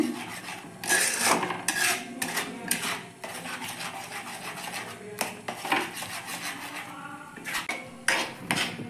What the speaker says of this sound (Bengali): ছাঁকা দিয়ে ছানাগুলোকে একটু এইভাবে চেপে চেপে দুধের সাথে মিশিয়ে নেব